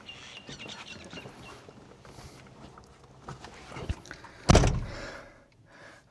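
Door of a 1993 Nissan Homy camper van being unlocked and opened, with soft handling noises building to a loud close thunk near the end.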